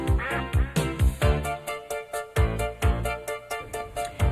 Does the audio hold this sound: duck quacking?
yes